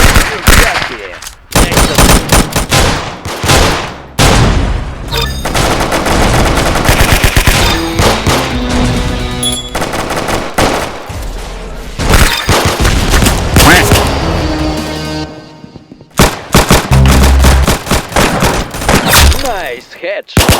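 Loud bursts of machine-gun and rifle fire in a shooting video game, long rattling volleys broken by brief pauses, with booming impacts and players talking over the action.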